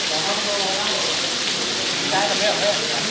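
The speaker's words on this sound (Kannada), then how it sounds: "ಮಳೆ ಜೋರ" Heavy rain pouring steadily and loudly on surfaces around a government office building, a dense continuous hiss with a voice speaking briefly underneath.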